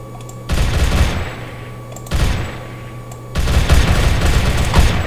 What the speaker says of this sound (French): M60 qui est vraiment une des meilleures armes. Donc en fait, c'est une mitraillette